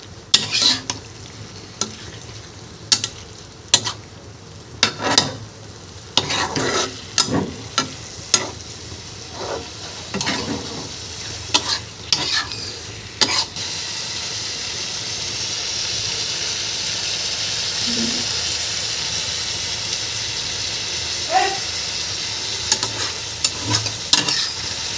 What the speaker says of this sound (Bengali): মাংসটাকে কষানো হচ্ছে